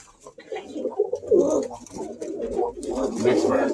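A red check pigeon, a cock bird, coos in low, throaty repeated bursts close by, with a brief voice underneath.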